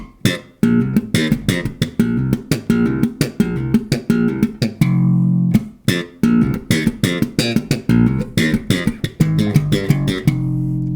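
A punchy thrash-funk bass riff with percussive slapped and popped octave notes in a driving, syncopated rhythm, looping steadily with short rests between phrases.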